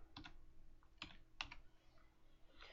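Computer keys are tapped in a few sparse, separate clicks, quiet and close, with short pauses between presses.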